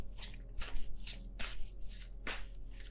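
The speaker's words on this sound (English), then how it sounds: "I just want to get one more card down." Tarot cards are shuffled and drawn by hand in steady, close riffling bursts, several quick papery flutters in a row with no one speaking.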